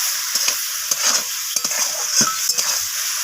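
Shrimp frying in a pan with salt and turmeric, a steady bright sizzle broken by repeated scraping stirs of a spatula, close and alone.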